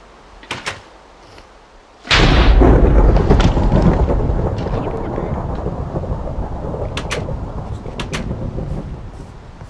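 Thunderstorm in a video game, a sudden loud thunder crack after a couple of faint knocks, then a sustained rolling rumble with rain that slowly fades.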